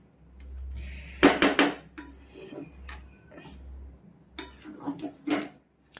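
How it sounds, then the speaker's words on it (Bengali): A utensil scrapes and clatters in a pan while muri ghonto, a puffed-rice dish finished with ghee, is mixed. Sharp knocks come in quick clusters between softer scraping, close up. "এবার সবগুলো ভালো করে একটু মিশিয়ে নেব।"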